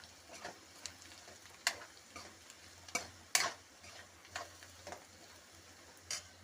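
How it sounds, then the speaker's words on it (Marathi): Onion sautéing in a pan with red chilli, salt, turmeric and goda masala, a soft quiet sizzle under sharp intermittent clicks and taps of a spoon stirring, spaced irregularly a second or so apart. "तर त्याला मी आता हे परतून घेते."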